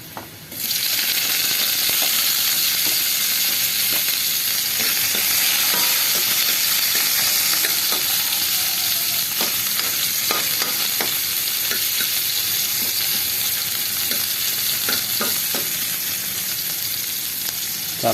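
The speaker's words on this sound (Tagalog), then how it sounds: "ginigisa ko muna yung sangkap" Onion and other ingredients for sinigang na bangus sauté in a hot pan with a loud, steady sizzle that starts abruptly and continues, punctuated by occasional scraping taps of stirring.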